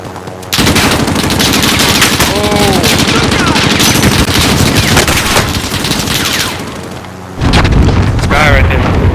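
LMG machine gun fire and explosions in the Warzone video game, loud sustained bursts of automatic fire with booms, briefly easing before another heavy burst near the end.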